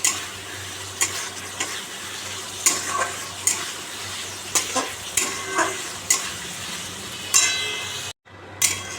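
Spices sizzling and being stirred in a pan for pabda fish curry, with Kashmiri chilli and salt, a steady frying hiss broken by repeated scraping clinks of a spatula, close and fairly loud, briefly cutting out near the end.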